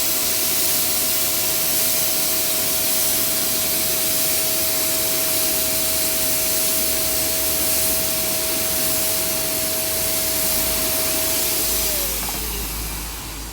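A paint sprayer laying a light coat onto a cupboard panel for a shower room toilet cupboard, a steady loud hissing whine held for about twelve seconds before it cuts off, with no talking.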